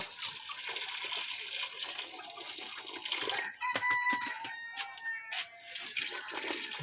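Lukewarm water pours steadily into a cooking pot with a hissing splash, then gives way to clinks and knocks of metal cookware.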